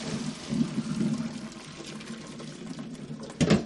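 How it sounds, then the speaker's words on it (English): Cooked fresh pasta poured off into a strainer, with a steady rush and splash of draining water close by that swells again near the end. "Drain the pasta."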